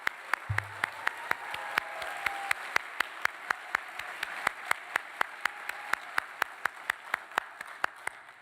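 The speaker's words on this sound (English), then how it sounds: "you can stop and clap for Pei-Fang." An audience at a university convocation applauds steadily, a dense wash of many hands clapping at even loudness with a few sharper nearby claps standing out, heard alone without talk.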